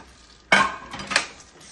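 Peanuts stirred in a pan make a sudden scraping rattle with a brief clink, followed by a second softer stir of the nuts against the metal, close and clear with no talking.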